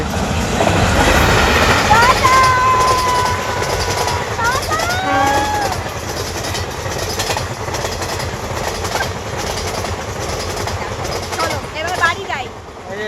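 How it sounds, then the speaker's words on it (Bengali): A train rumbles past continuously with clattering rail noise and squealing wheel tones, while people talk over it. "আজ ট্রেন যাচ্ছে"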